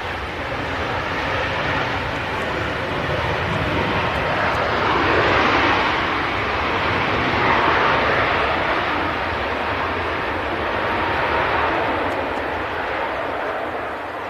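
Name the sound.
Ryanair airliner landing with a bounce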